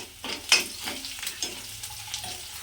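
Ginger goes into a hot pan of oil for a homemade tomato curry, setting off a quiet sizzle with soft scraping stirs and light clinks of a utensil against the pan, close and unaccompanied by talk.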